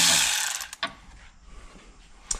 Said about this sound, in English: you should be able to get those out with a normal wrench